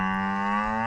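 A young bull on a cattle farm gives one steady, deep, drawn-out moo close up, with no talking over it.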